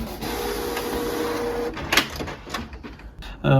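A Canon inkjet photo printer runs a print job, whirring and shuffling steadily up close, with a few sharp mechanical clicks and clunks toward the end.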